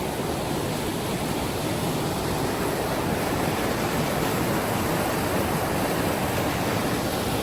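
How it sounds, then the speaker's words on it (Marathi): Steady, loud rush of a river fed by Wallace Falls in Washington, USA, a continuous broadband roar, unbroken throughout with no voices. "पाणी वाहत आहे"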